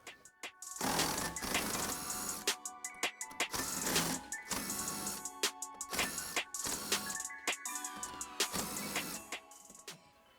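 A wrench works a suspension strut nut loose on a Mustang during a coilover install, giving close, repeated metallic clicks and ratcheting bursts in irregular clusters with no talking.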